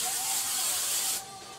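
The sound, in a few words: hairspray being sprayed from can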